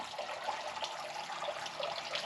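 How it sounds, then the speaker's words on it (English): A garden waterfall water feature outside a Las Vegas house gives a steady, soft trickle and splash of running water, continuous and fairly close, with no talking over it. "So here we got the waterfall."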